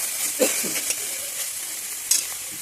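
Cumin leaves and ginger frying in hot oil, a soft continuous sizzle close by with a few small pops and stirring scrapes.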